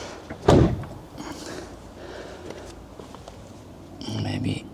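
Car door of a VW Golf R32 being shut during bodywork repair, one solid close thump early on, followed by quieter rustling and handling sounds in a workshop.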